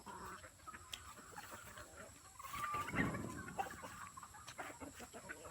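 Chickens on a rural Filipino farm cluck and call in the late afternoon, a steady moderate flock chatter with one louder burst midway, against faint background hiss.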